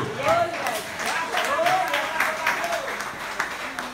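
A church congregation applauding during a sermon, with scattered claps running under a voice that keeps speaking throughout.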